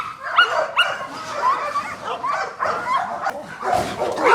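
Dogs in a kennel yard, bandogs and American pit bull terriers, bark and yip loudly and close by in repeated uneven bursts, with some whimpering mixed in.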